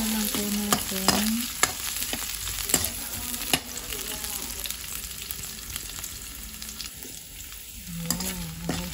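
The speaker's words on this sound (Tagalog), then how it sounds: "Gisa-gisa lang po natin." Chicken afritada ingredients being sautéed in a pan give a quiet steady sizzle, with scattered clicks of a utensil stirring and scraping through the whole stretch.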